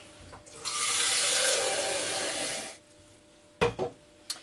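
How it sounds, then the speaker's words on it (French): Water is poured over quinces in a container, giving a loud, close rushing pour for about two seconds that then stops. A few brief knocks follow. "Je vais mettre tous mes coins dans mon récipient. Je vais couvrir d'eau."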